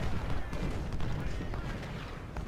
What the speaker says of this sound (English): I need you to shoot up Sill